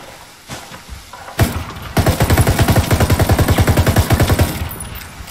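Loud video game gunfire in a squad-based shooter: a single shot, then a sustained rapid burst of automatic fire with an evenly spaced, punchy rhythm, close and dominant, with no talk during the volley.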